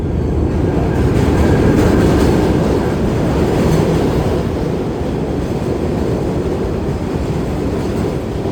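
A New York subway D train on the F line toward Coney Island, a loud steady rumble and rattle of the moving car heard from inside, with faint wheel squeal and no talking.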